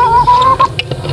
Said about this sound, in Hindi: तो चले अभी मुर्गियों को बंद करते हैं